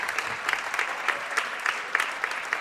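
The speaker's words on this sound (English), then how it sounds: "Proud of applauding the Pony starters." A boys high school basketball crowd claps steadily for the Pony starters, a moderately distant run of rhythmic applause with no talk over it.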